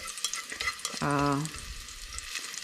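Garlic frying to golden brown in a pan, the start of a bitter melon and egg stir-fry: a steady close sizzle with a brief tonal whine midway and no talk.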